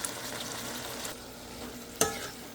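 Green beans (sitaw) stirred in a pan while cooking for adobo, a soft steady sizzle with scraping stirs and a sharper clack near the end.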